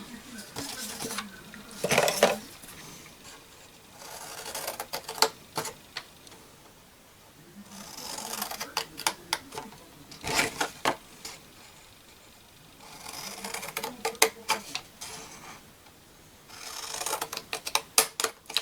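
Paper being cut along the middle squares, likely with scissors, giving repeated crisp snipping and scraping bursts with quiet pauses between the cuts.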